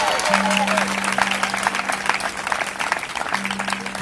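A church congregation at a night prayer service in Port-Bouët applauds and cheers to God, a dense, continuous wash of clapping and crowd noise with a sustained tone beneath it.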